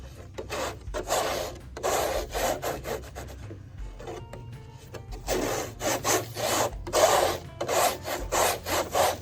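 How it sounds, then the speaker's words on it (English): Close, loud scrubbing as a palette knife and a bristle brush work lead white oil ground into linen canvas. Rhythmic bursts of rubbing come in groups, with a brief quieter pause in the middle and no talking. "I'm going to push it in with my palette knife, and then I'll scrub it with a brush"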